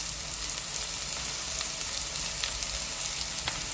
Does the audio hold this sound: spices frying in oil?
yes